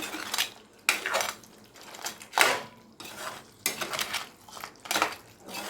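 A lid clanks off and back onto a metal pot of simmering crab masala, with several sharp clattering metallic knocks and scrapes in a loose rhythm, close and moderately loud, no talking.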